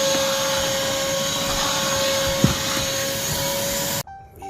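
A vacuum cleaner drones steadily at close range with a high whine while vacuuming a car's front floor, then cuts off abruptly near the end, leaving quieter background.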